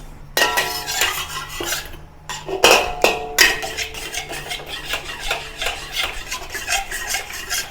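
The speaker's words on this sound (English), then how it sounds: "Heat the butter in the wok over low heat." A metal utensil scrapes and stirs in a wok as butter melts over low heat, giving a continuous rasping clatter with a few sharper knocks against the pan, close and without talk.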